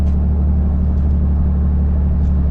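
A fertilizer truck rumbles by on a rural road, a heavy, steady low engine drone held at an even loudness for the whole stretch, with no talking.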